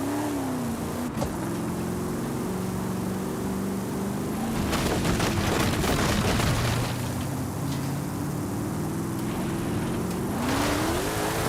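Engine of a Chinese Lucky Stars car driven in Forza Horizon 5, droning and revving steadily throughout with pitch swings as gears shift, plus loud tyre and crash-like bursts in the middle; no talking.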